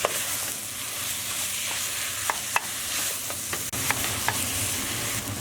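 Half a kilo of lamb mince browns in a pan for Indian keema, giving a steady close sizzle throughout with occasional sharp clicks and scrapes of a stirring utensil.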